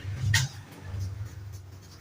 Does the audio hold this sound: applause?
no